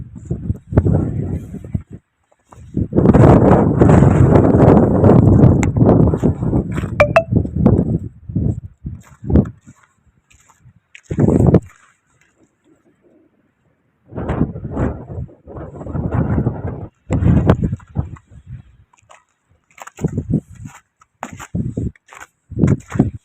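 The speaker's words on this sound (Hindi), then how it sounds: "बहुत जमती है, काफ़ी ज़ोर की हवा चल रही है" Strong wind gusts in snowy weather in Türkiye roar against the microphone in loud, rough bursts, a long heavy blast early on followed by shorter gusts separated by near-silent lulls.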